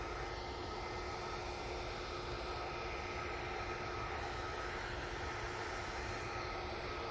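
A Ryanair airliner comes in to land, a faint, steady, distant jet rumble and hiss holding evenly throughout with no voices.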